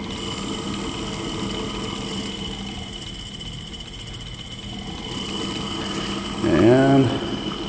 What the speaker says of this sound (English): This is the Hybco tool grinder. It has a variable speed motorized workhead.